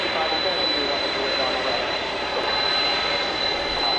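An American Airlines Boeing 777-200 arrives at Dallas Fort Worth airport at night, its jet engines a steady, smooth roar with a thin high whine running through it, with a voice talking faintly underneath.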